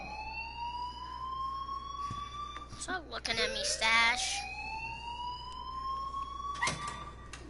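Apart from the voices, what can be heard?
alarm ringing in the video game Life is Strange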